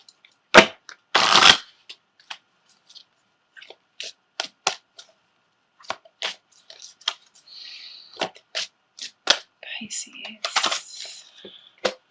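Tarot and oracle cards are shuffled, with a couple of quick riffle bursts followed by scattered close taps and snaps of single cards being pulled from the deck and laid down.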